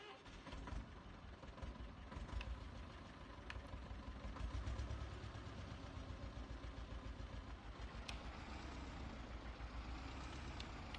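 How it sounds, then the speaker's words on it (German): Wladymirec T25 tractor engine in Farming Simulator 22, a quiet, steady low-pitched diesel idle with a rapid rhythmic chug, running alone without talk. "Machen den Motor mal. Hört auf den Motorsound."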